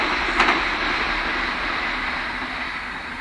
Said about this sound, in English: Oh, there comes the train.